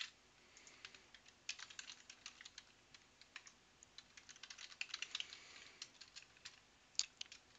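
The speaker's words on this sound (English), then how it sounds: "So let me type in my username and password." Rapid keyboard typing of a username and password for a Google account login, with irregular bursts of close, crisp key clicks and short pauses, with no talking.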